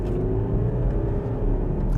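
A Porsche Cayenne with a 3-litre diesel engine accelerates in sport mode, a close, steady low rumble and whir of the engine pulling hard with no voices.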